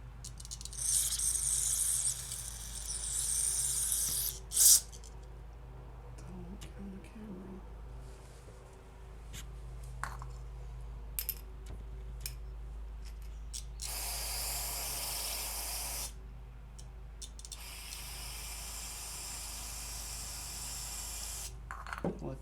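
Bursts of steady aerosol hissing as carburetor cleaner is sprayed on jets of a Mercury/Tohatsu four-stroke outboard carburetor, a few seconds each, close by, with quiet mechanical clicks and handling noise between them.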